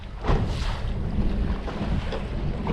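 Strong wind over a choppy lake buffets close and loud with a steady roar and low rumble, and waves slap against the boat throughout.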